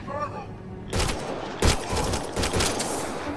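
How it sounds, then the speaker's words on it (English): Gunfire in the video game Mass Effect Andromeda: after a quieter opening, a burst of sharp shots erupts, with several distinct bangs and rattling bursts following over a few seconds. "They shot him."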